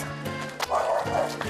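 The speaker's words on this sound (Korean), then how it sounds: "옆집 강아지도 덩달아 흥분 모드." A neighboring dog in a rural Korean village barking excitedly, a few sharp barks close by over a busy background with people talking.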